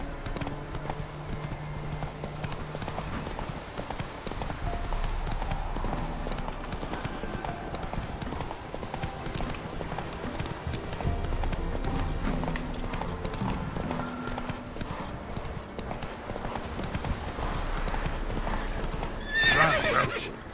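Roach, the horse in The Witcher 3, gallops in a steady clip-clop rhythm and gives loud whinnies over a constant game soundtrack, with no talking.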